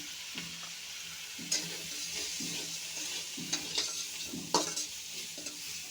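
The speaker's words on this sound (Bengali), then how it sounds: "বেগুন আলু একসাথে মিশিয়ে একটু ভেজে নেব" Eggplant and potato fry together with turmeric in a pan, a soft, steady sizzle broken by stirring scrapes and a few sharp utensil knocks against the pan.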